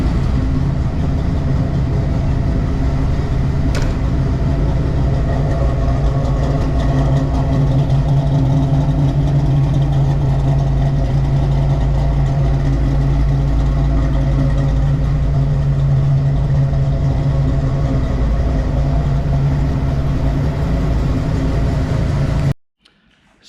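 A 1993 Ford Mustang Cobra's engine idles steadily through a new exhaust with a deep, rumbling drone, continuous and fairly loud throughout, ending abruptly near the close.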